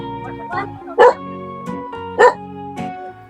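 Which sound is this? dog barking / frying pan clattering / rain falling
dog barking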